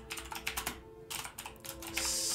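Fingers type a short burst on a computer keyboard, quick clustered clicks near the microphone with a brief pause midway, no voices.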